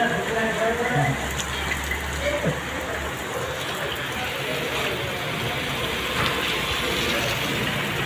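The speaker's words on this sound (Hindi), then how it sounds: "मूसलाधार बारिश का नज़ारा आप देख रहे हो बाड़मेर कलेक्ट्रेट से।" A heavy monsoon downpour at the Barmer collectorate, a dense, continuous hiss of rain pounding surfaces, with a low engine-like hum early on.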